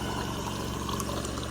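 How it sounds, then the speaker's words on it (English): Hot water poured into a cup, a steady close splashing pour lasting the whole moment, with no voices. "let's get a little hot water in there, make this a little warmer"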